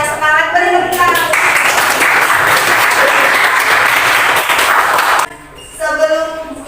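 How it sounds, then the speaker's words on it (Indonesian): Classroom applause from a group of students, steady broadband clapping lasting about four seconds and fairly loud, with brief speech before and after it. "Semuanya hebat, semuanya semangat, beri tepuk tangan."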